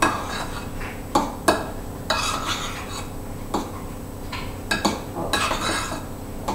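Spoon or utensil working a batter in a bowl for a magic cake, with repeated scraping strokes and sharp clinks against the bowl at an irregular pace, close and moderately loud.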